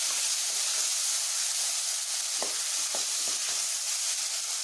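Soft cooked tomatoes are stirred in a hot pan for a Rajasthani radish-tomato chutney, under a constant loud sizzle and hiss, with a few faint spoon scrapes cutting through near the middle.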